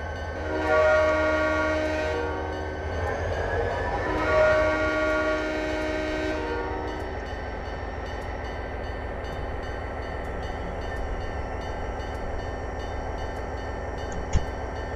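An EMD SD40-2 locomotive in Train Simulator 2017 sounds two long horn blasts near the start, then a steady low diesel drone and rail rumble as it pulls away from the station.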